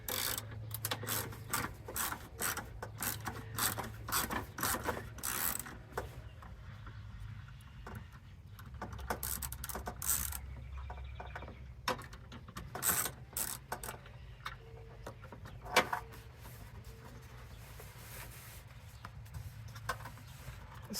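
A ratchet with a 7mm socket works a bolt loose on a 1994 Oldsmobile coupe during a turn signal lens swap. It gives a steady run of rapid mechanical clicking, close up and continuous, with a few sharper clacks.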